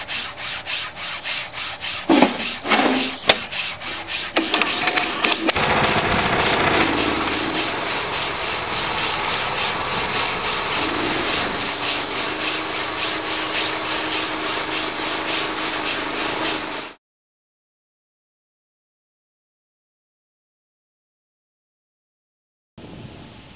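A sawmill slabbing a honey locust crotch log: a steady, loud cutting drone with grinding, rubbing wood noise that runs for about sixteen seconds, then stops abruptly into silence before a brief return at the very end.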